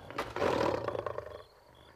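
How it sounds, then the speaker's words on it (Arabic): A lion gives one short, loud, rasping roar close by, lasting about a second before fading into quiet. "ما هو إلا أسد يا عمرو؟"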